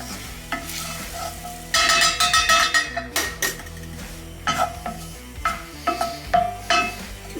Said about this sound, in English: Kind of like making a roux and then you add milk.